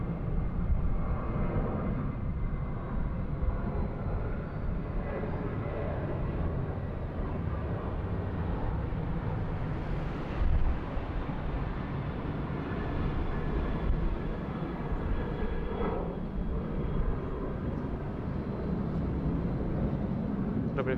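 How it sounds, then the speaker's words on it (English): A Malaysia Airlines Boeing 737-800 accelerates on runway 19 right at Bangkok airport, its engines a broad, steady roar heard from a distance that swells slightly midway and holds throughout. "Malaysia 737-800. It's getting a move on here on runway 19 right."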